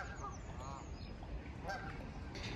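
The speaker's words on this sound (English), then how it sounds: "A Canadian goose." Canada geese honk outdoors in a few short, fairly faint calls spread over a couple of seconds, with low background rumble and no talking.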